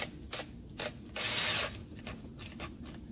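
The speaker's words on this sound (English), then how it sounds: "Use your 5/16 inch nut driver and tighten that up just as tight as you can make it." A 5/16 inch nut driver tightens a stainless steel band clamp on a rubber no-hub drain coupling, giving short close ratcheting clicks and grinding turns in several quick bursts over a low steady background.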